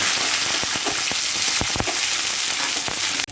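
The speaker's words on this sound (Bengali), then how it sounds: "এইবারে দিয়ে দেবো এর উপরে কেটে রাখা পেঁয়াজ কুচি।" Chopped onion hits hot oil already spiced with nigella seeds, giving a loud, dense, close sizzle with sharp popping crackles throughout, no voices.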